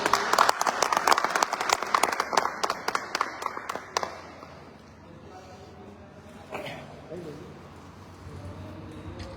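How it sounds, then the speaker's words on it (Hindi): A Diwali gathering audience breaks into loud clapping that lasts about four seconds, then fades into quieter room sound with a few faint voices and small noises. "जोरदार ताली हो जाएगी"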